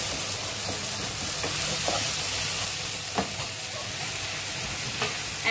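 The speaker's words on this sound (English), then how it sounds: "of course, we need to stir it well again" Minced mutton frying in a pan gives a continuous close hiss, broken by soft scraping stir strokes and a few light taps of the spoon.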